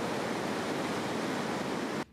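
Ocean waves breaking where surfers ride small waves, a loud, steady roar of surf and whitewater with no talk, cutting off abruptly just before the end.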